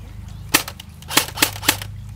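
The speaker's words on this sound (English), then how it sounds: "that was semi-auto, now here's full auto" A JG G36K airsoft rifle fires four sharp semi-automatic shots, one then a quick run of three evenly spaced snaps, loud and close with no talking.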